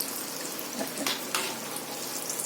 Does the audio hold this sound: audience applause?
no